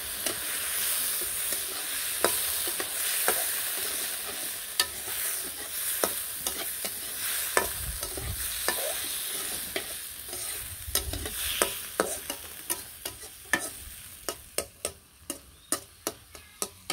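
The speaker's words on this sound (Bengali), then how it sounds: "তো এখন উস্তা আর আলু ভেজে নিই, তার সাথে একটু মশলাপাতি দিয়ে দিলাম, হলুদ মরিচের ফাঁকি লবণ সব কিছু দিয়ে আস্তে আস্তে ভাজি করি।" Bitter gourd and potato pieces fry slowly with turmeric, chilli and salt under a continuous soft sizzle, while a spatula scrapes and taps the pan in repeated strokes that grow sharper and more regular toward the end.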